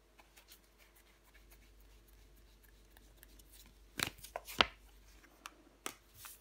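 Tarot cards are handled and laid down on a table with soft faint shuffles and light taps, including a couple of crisper snaps near the end.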